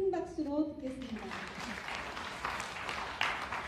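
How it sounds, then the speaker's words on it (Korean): Applause for the final speaker at a textbook forum event on energy and freedom; a voice carries over the opening moment, then a dense, steady clapping wash fills the hall and keeps going. "큰 박수로 듣겠습니다."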